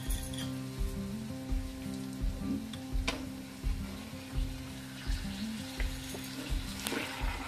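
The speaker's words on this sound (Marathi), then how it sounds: "आणि आता चिकन ओतूया. हे झालंच रेडी मसाला." Chicken pieces frying in biryani masala in a pan, a steady loud sizzle with rhythmic scraping and stirring strokes, close up and without talk.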